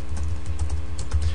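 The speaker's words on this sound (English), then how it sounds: "it's getting hard to type, and I hate typing on laptop keyboards" Typing on a laptop keyboard in a cold room, a steady run of close, soft key clicks with no voices.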